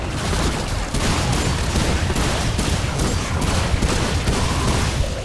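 Rapid, continuous bursts of gunfire in the video game Remnant 2 fill the scene, loud and dense with overlapping shots throughout and no pauses.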